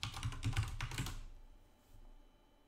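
Quick, light clatter of keys as a password is typed on a computer keyboard, about a second of rapid taps followed by near silence.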